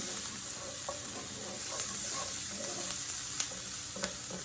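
Onion sautéing in a pan for a one-pan chicken and rice dish, a continuous close sizzle with occasional spatula scrapes and small clicks throughout.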